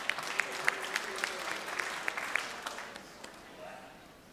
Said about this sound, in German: Ich finde, das ist mal einen kleinen Applaus wert.